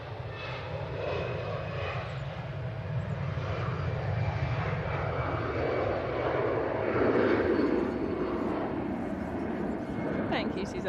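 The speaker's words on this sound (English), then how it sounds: "we've got a Ryanair from Funchal on finals." Ryanair airliner from Funchal on final approach at Manchester Airport, a steady distant jet roar that swells slightly as it nears, heard under people talking.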